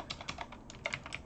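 Keys on a computer keyboard are tapped in quick, faint clusters while a command is entered for a Hive OS masternode setup, with no talk over the soft clicking.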